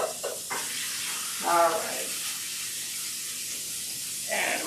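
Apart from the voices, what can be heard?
short ribs searing in a pan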